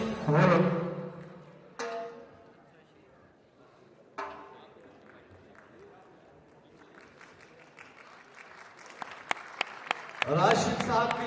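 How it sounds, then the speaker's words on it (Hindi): An audience at an award ceremony applauds a best-actor winner in several bursts: a loud round at the start, shorter claps around two and four seconds, then swelling applause at the end, with a voice speaking between bursts. "जोरदार तालियों की आवाज"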